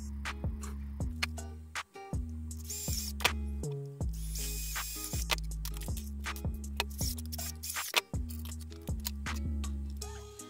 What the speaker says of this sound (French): ici j'étais en train de percer le petit trou, vous savez, pour me rentrer le bout de la cartouche de silicone